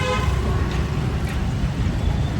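Busy evening road traffic at office closing time, with a steady dense rumble of engines and repeated car horn toots throughout, loud and close.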